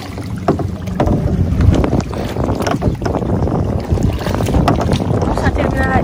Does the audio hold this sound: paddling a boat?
yes